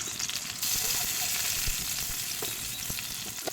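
Onions frying in oil in a kadai wok, a steady close hiss of sizzling that grows a little louder partway through, with faint scraping stirs and no talking.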